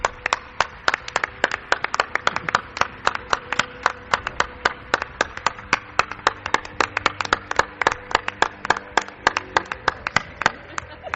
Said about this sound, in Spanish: Y se llama, quiero un aplauso, Clara Tauces.